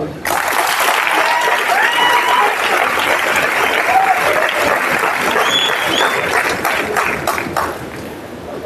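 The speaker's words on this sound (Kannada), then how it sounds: "ಹೊಡೀರಿ ಚಪ್ಪಾಳೆ" An audience at a network marketing talk breaks into sustained clapping, a dense, even roar of hands that starts abruptly and holds steady before easing slightly at the end, with faint voices mixed into the crowd.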